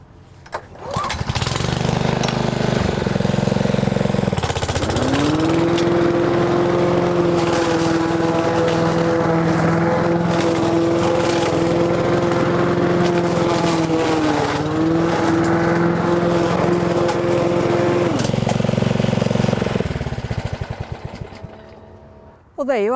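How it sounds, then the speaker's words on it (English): An ordinary garden lawn mower mulching compost material starts up nearby, then runs loudly with a steady droning engine tone for about fifteen seconds before winding down and stopping. "Your ordinary garden mower can be a great mulcher."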